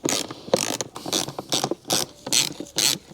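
A hand ratchet clicking in repeated bursts as it backs out T20 Torx screws on the air filter housing of a 2012 Volvo XC60 D5 AWD, with close, sharp ratcheting pulses and brief pauses between strokes.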